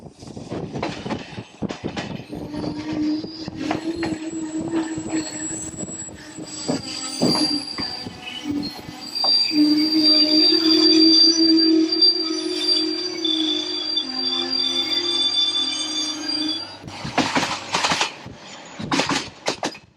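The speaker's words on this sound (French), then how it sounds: "Le train a une marche régulière." A passenger train in Bulgaria runs steadily along the rails. There is a continuous rolling rumble with a long, high, whining wheel squeal through the middle, then clattering rail-joint knocks near the end. It is close and loud, with no talk.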